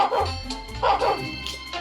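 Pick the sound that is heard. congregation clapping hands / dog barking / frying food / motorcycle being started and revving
dog barking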